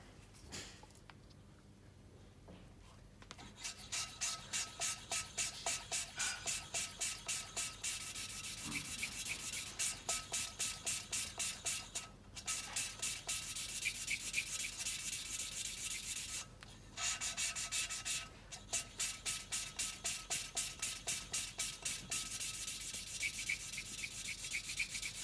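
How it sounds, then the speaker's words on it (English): An engine valve in a Mini cylinder head lapped by hand with valve grinding paste and a grinding stick, a rhythmic rapid gritty rubbing swish in fast back-and-forth strokes, close and steady with brief pauses, no talking. "when the valve goes quiet as you're lapping it"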